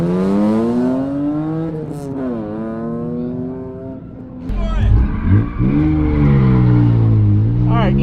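A BMW M3 E46 drift car with the S54 engine revs and pulls hard, its engine note rising and falling loudly and steadily, sometimes sweeping higher as it accelerates, with no talk over it.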